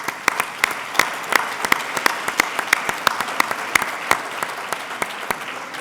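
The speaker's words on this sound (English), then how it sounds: "Now we can all applaud." Audience applause for honorees at an awards evening, a steady wash of many hands clapping with sharp individual claps standing out throughout, fairly close and sustained without talk.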